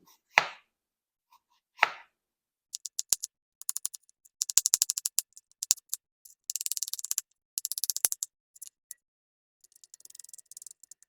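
Apples being cut up on a board for a caramel apple bundt cake: close, crisp knife chops in uneven bursts and single strikes, with quiet pauses between.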